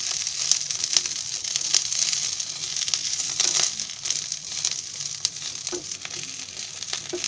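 Curry leaves dry-roasting in a pan, a light steady sizzle with scattered crisp crackles and rustling as the leaves are moved, close and moderately loud, no voices.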